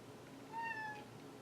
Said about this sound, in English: my cat is freaking me out